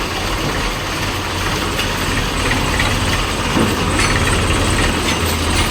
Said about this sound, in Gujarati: જો ટ્રેક્ટર હાલ્યું આવે છે